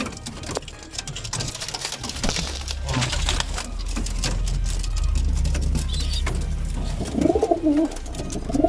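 Pigeons coo inside a cage in a DIY loft, a steady low cooing with rustling and shuffling close by, rising to a louder burst of calls near the end.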